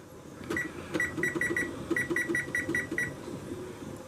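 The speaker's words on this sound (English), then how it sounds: "I'm gonna set my timer for 10 minutes." A kitchen timer being set for a pressure canner venting batch: a string of quick, clear electronic beeps in short bursts, close and fairly loud over a low background hiss.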